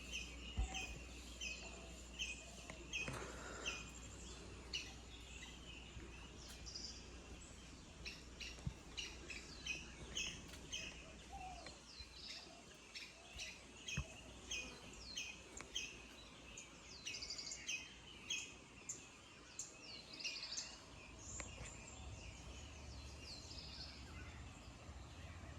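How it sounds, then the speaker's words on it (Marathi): Birds chirp and tweet repeatedly in the open air behind a house near Ganpatipule, with a few squawks and faint insect buzzing under the calls. The song is soft and steady, and nobody speaks. "एकदम सुंदर असा पक्ष्यांचा आवाज इकडे येतोय"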